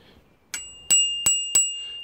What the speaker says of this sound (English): that free bell came with the seat or saddle